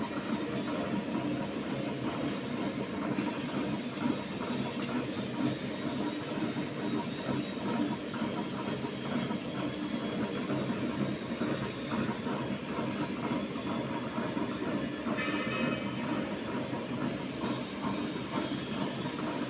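A large cassava peeling machine runs in a factory with a continuous loud mechanical roar and hiss, steady and unbroken throughout, and no one speaks.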